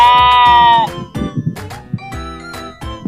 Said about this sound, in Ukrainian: Вівця бекає